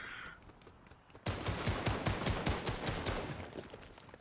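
Video-game bots trade rapid automatic gunfire, a sudden burst of evenly spaced shots that continues as a steady rattling fusillade, fairly loud and alone after a brief quieter opening.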